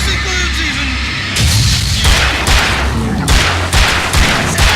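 Gunfire in the horror action game Alan Wake: a run of sharp, loud shots at an uneven pace, close and punchy over a low rumbling game backdrop.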